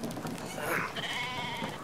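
Sheep bleating in the video game Brothers: A Tale of Two Sons, a short wavering bleat at moderate volume over a soft, steady game background.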